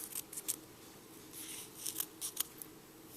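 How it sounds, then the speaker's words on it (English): Scissors snipping loose yarn ends on a crocheted beanie, heard as a few quiet, close clicks and snips spaced out over a soft background, with no talk. "if it's long enough like this, cut it straight across"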